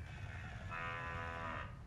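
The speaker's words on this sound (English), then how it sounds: "Isn't that cute? It's a cow." A toy computer plays a synthesized cow moo, a single sustained lowing tone lasting over a second on a steady electronic background, close and clear with no talk.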